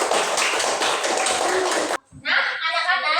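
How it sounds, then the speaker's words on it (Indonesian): Children clap their hands in a primary school classroom, a dense burst of rapid overlapping claps lasting about two seconds. A short pause follows, then a voice speaks. "Tepuk tangan dong Mbak Citra."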